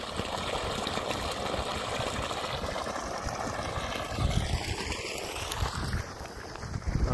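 Water rushes from the outlet pipe of a BLDC bore motor pump (900W and 1700W motors, 1.5 and 2 inch pipes) in a continuous, fairly soft gush, with a few gusts of wind buffeting the microphone.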